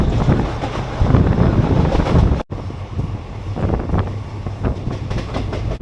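The Haldibari Super First Express rumbles along on the way from Kolkata toward Tarapith, a continuous loud rolling roar with wind buffeting the microphone, a brief dropout midway, and faint clatter throughout.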